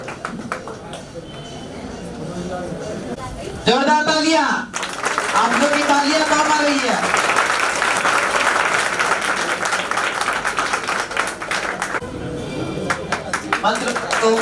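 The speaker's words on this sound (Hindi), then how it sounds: "जोरदार तालियां आप लोग।" Loud sustained applause from a seminar audience, a thick steady roar of clapping under a speaker's amplified voice, which drops away near the end leaving sharper scattered claps.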